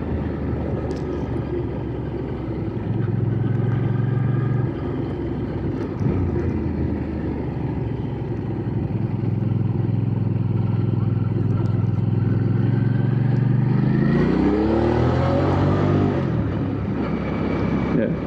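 A Hyosung GV650 Aquila motorcycle with stock exhaust drones low and steady throughout, swelling into a rising rev near the end, with a faint voice underneath.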